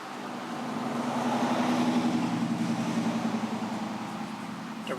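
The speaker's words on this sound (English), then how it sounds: "just a second, truck's coming by." A truck passes outdoors while a Ryobi string trimmer sits idle, a broad engine-and-tire rumble swelling loud around the second and third seconds, then slowly fading as it moves away.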